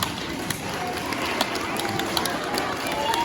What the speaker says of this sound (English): Round of applause for our 3 contestants.